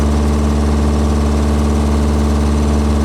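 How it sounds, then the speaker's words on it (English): A running car engine idles loud and close, its carburetors giving a steady low throbbing rumble with a constant, even burble and no voices. "You can hear those carburetors cackle."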